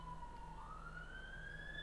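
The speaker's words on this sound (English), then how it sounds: "No, it's a fire engine, actually." A fire engine siren passes at a distance, a faint rising wail over steady low traffic rumble and background noise.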